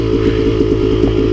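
Motorcycle engine climbing a hill, a steady loud drone with a rhythmic pulsing beat throughout, close and continuous with no talking.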